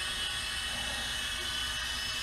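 Small GP Toys G610 3.5-channel infrared RC helicopter flying: a continuous high buzzing whir from its tiny motor and rotor blades, even and quiet, alone without speech.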